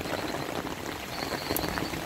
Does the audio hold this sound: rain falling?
yes